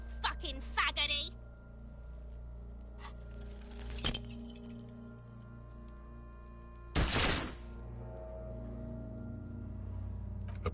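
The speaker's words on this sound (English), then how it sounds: "A plume of smoke erupts from the barrel. Your hand goes numb from the explosion." A single loud gunshot blast fired at a hanging corpse in the video game Disco Elysium, with clinking, glassy transients before it and a lingering ringing tone afterward, under a steady background hum.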